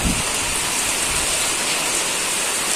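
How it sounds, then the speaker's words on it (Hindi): Rain falls in a dense, loud, continuous wash, a broad steady patter on surfaces nearby with no pauses or voices. "इधर बारिश आ रही है"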